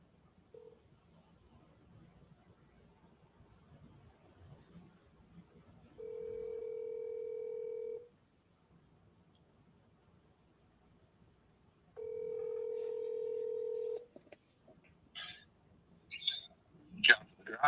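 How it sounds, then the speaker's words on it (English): A telephone line gives two steady tones, each about two seconds long and spaced apart, followed by a quick flurry of short dialing beeps. Faint, murmured talk sits low in the background. "I'm going to double dial him."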